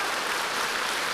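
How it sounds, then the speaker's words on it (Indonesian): Steady applause from a crowd, dense and continuous, with no voices standing out. "Berikan tepuk tangan buat dia."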